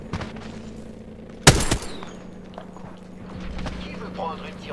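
A single loud gunshot blast in the Apex Legends video game punches out over background game noise and footsteps, with people talking throughout.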